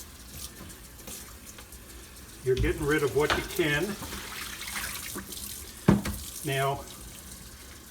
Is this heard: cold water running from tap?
yes